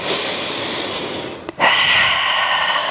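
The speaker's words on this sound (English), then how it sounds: "breathing in" A single sharp intake of breath through the nose during a vinyasa yoga flow, close and clear, set against a steady background hiss, with no talking.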